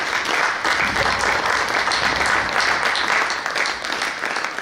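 A church congregation at a French-language seminar applauds steadily, a dense, loud, sustained wash of many hands clapping together for several seconds with no voices on top.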